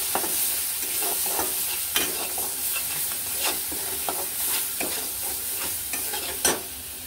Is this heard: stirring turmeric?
yes